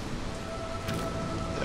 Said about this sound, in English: We have a storm currently going on.